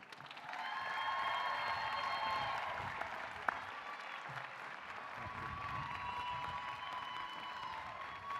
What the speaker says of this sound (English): Would you all please join me in a warm round of applause for Bridgewater's finest.